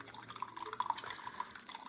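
Water drips and trickles inside a Tastyle single-serve coffee maker, with faint, irregular plinks and splashes spread over a soft hiss.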